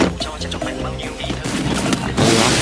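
Gunfire in Free Fire, a rapid string of close shots with crashing impacts, and a voice talks over the shooting.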